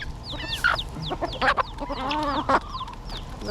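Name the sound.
chickens clucking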